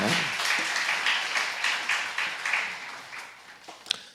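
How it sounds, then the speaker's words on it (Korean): A church congregation applauds warmly during a Sunday service in a steady wash of clapping that slowly tapers off, with one loud clap near the end. "우리 하나님께 영광의 박수 드립니다"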